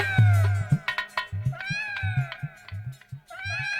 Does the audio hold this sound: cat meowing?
yes